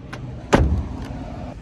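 A new DAF XF truck's cab door shuts with one solid, close thud and a short settling rumble, then quiet cabin ambience.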